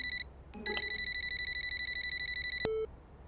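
A telephone rings indoors with a steady, rapid electronic trill lasting about two seconds, loud and close, after a brief earlier chirp, then cuts off.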